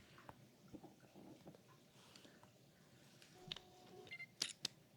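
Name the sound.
compact camera shutter clicking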